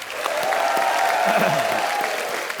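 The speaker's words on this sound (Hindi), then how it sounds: "एक बार राजू भाई के लिए जोरदार तालियां।" Studio audience applause on a Hindi comedy talk show: a sustained, even wash of many hands clapping, loud and close throughout, with crowd noise and a tonal music line beneath it.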